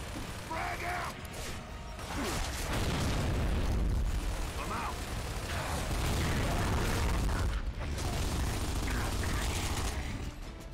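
A frag grenade goes off in the Gears of War 2 video game, a heavy boom amid sustained gunfire and mechanical clatter, with voices talking over the din.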